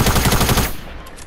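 Rapid automatic gunfire in the video game Fortnite, a loud, close burst of evenly spaced shots lasting under a second before cutting off to quieter background.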